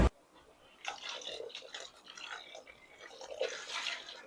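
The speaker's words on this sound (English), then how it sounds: "I'm going to put a splash of vinegar in these pressure canners" Vinegar splashes into pressure canners, a brief liquid pour with dripping and trickling, fairly close and moderately loud, fading out over a few seconds.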